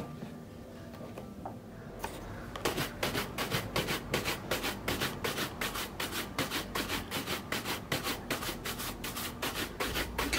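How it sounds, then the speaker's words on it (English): Vigorous brushing on a shell cordovan leather shoe: after two quiet seconds, a close, rhythmic run of quick scrubbing strokes repeats steadily to the end, with no talk. "Continue to brush vigorously and you'll see an improvement pretty quickly."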